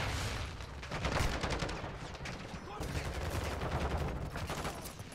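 Rapid turret gunfire in Call of Duty: Modern Warfare II, dense sustained bursts of automatic shots, loud and close, running almost the whole time with brief gaps.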